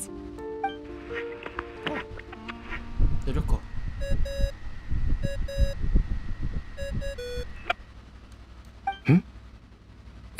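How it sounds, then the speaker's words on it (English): A ringing tone in the Genshin Impact video game, repeated electronic beeping chimes playing in a steady pattern over game music and rustling, with a voice talking partway through. "I really hate that ringing tone."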